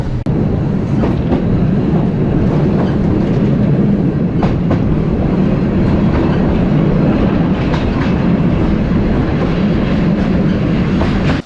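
A historic train rumbles steadily along the rails through Poland's Owl Mountains at close range, loud and continuous, with faint rhythmic clicks from the wheels over the track joints.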